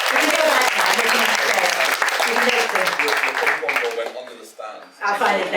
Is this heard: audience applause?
yes